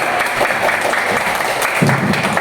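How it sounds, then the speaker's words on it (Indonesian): A classroom of students applauding for a classmate named Putri, a short steady patter of clapping hands heard close and fairly loud throughout. "kasih tepuk tangan buat Putri."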